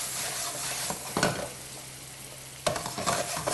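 A small splash of cognac hitting a pan with a little olive oil, a soft steady sizzle with two sharper flare-ups of spitting, quiet and close.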